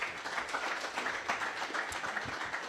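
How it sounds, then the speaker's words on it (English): Audience applause at a PGTI golf tournament ceremony in Chhattisgarh, steady dense clapping from a crowd filling the whole stretch without a break, with no speech over it. "You definitely deserve a huge round of applause"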